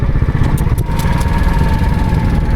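A motorcycle engine idles steadily close by, a continuous low rumble with faint mechanical whine, no voices in the moment.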